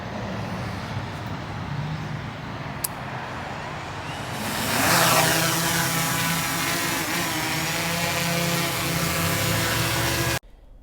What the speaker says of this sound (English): The drone is up in the air